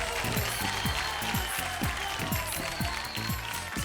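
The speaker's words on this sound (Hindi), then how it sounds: "जोरदार तालियां।" A studio audience claps loudly and steadily on the Indian TV show Choo Lo Aasmaan, with a rhythmic music track pulsing underneath the dense applause throughout.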